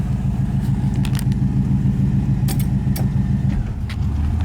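A 1952 Chevrolet Bel Air engine runs steadily at idle, a loud, even low rumble with a few faint clicks and rattles on top.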